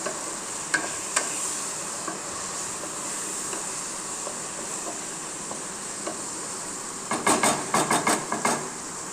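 Green beans and onion frying in a pan, a steady close sizzle running throughout, with a burst of quick clattering stirring strokes near the end.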